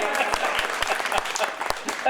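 An audience claps steadily, a dense wash of applause with a few louder individual claps standing out.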